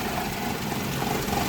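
Ford Ka 2015 1.0 engine idling during a fault diagnosis for an oxygen sensor and wiring harness problem, a steady, loud, close mechanical drone with no talking.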